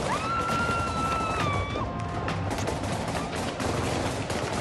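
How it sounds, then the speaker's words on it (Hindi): Taliban fighters fire guns indiscriminately at protesters in Afghanistan: a dense, continuous crackle of gunfire bursts, loud and sustained throughout, with a brief high whistling tone early on and no voices. "उन्हें प्रदर्शन से रोकने के लिए तालिबानी अंधाधुंध फायरिंग कर रहे हैं"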